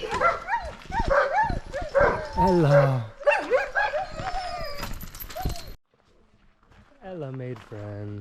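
Sled dog huskies in kennels in Denali National Park bark, yip and howl in an excited chorus, loud and close, with a brief pause before rising howls resume; people talk over the din.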